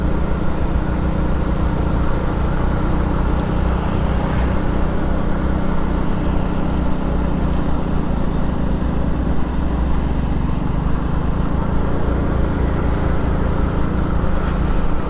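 Suzuki Smash 115 motorcycle, about ten years old, riding on a rural road in Mansalay, Oriental Mindoro, a continuous loud engine drone with steady wind rush and no talking.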